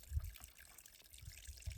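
A small trail stream on the Appalachian Trail trickles and splashes steadily, with a leaf placed in it to channel and boost the flow; a faint, close, low gurgle with soft pulses of louder splashing.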